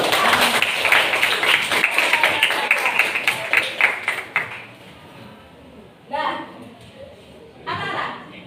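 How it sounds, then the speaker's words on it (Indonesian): Students in a classroom clap together in a dense round of applause that fades after a few seconds, followed by quieter room sounds and brief talk. "Give applause to"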